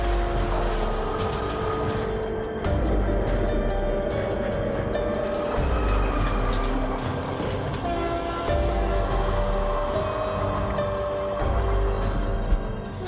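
A train approaches on a railway, its wheels drumming in a heavy rhythmic clatter over the rails, loud and sustained, with a steady rumble throughout.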